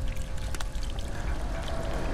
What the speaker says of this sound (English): I just turned on the water faucet